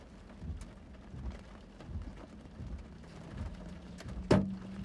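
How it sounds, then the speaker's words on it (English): Hail and heavy rain pelt down during a tornado-producing thunderstorm, a steady dense patter with scattered harder knocks and one sharp loud impact near the end. "Oh, that, we got big hail."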